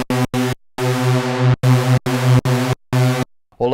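Roland Jupiter 6 analog synth in unison mode with detune plays a series of short, punchy chords with sharp gaps, then one long held tone, loud and thick with beating, detuned layers, no voices.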